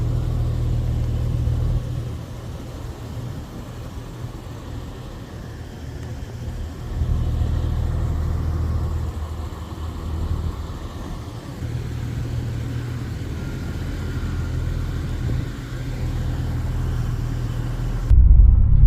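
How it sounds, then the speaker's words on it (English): A Jeep is driven along the road, its engine giving a steady low rumble that swells and eases over time, with a louder surge at the very end and no talk. "Well, I drove the Jeep."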